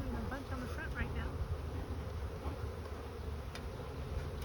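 Honey bees buzzing around an open beehive during maintenance, a faint steady drone with individual passes flitting close by, and a voice murmuring underneath.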